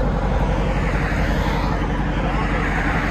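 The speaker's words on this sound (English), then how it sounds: "A nice idle to it." Deep, loud rumble of a 2021 Jeep Grand Cherokee SRT Hemi V8 idling through an aftermarket exhaust, heard up close and steady throughout.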